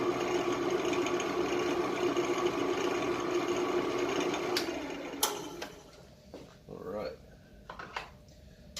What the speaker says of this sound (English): Very, very lightly touching this. Just kind of buffing.